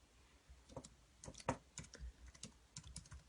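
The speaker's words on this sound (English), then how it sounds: "I'm typing it up on the comments" Typing on a computer keyboard during a live stream, irregular bursts of soft key clicks, close but quiet, with no talking.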